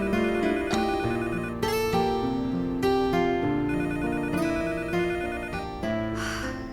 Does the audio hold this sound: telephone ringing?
yes